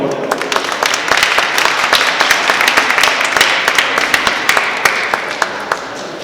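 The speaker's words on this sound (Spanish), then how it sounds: "Un aplauso, por favor." A room full of people applauds an author at a graphic novel presentation at a university, a sustained, fairly close round of clapping with sharp individual claps standing out and faint voices underneath.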